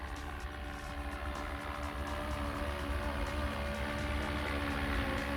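A 3D-printed 450-size RC helicopter weighing 1600 grams drones steadily with a whining motor tone, constant and moderately close, no voices present.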